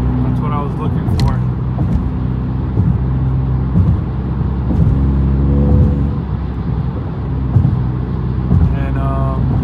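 A 2019-2020 Honda Accord Sport 1.5T with a tuned exhaust roars under full throttle, a loud steady engine drone with rising rev tones heard from inside the car.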